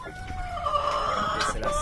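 A white and mini black Faverolles rooster on an African farm gives a drawn-out, strained call, close and loud, with farmyard clucking and noise behind it.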